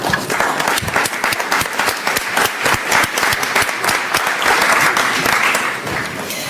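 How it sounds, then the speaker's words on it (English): Sustained audience applause fills a conference hall after a presentation at the OSCE Parliamentary Assembly Winter Meeting, a dense steady clatter of many hands at even loudness that tapers slightly near the end. "Your applause shows that you have been understood by our delegates"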